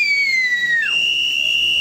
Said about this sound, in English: The whistle signaled for complete silence, followed by a sound detector search.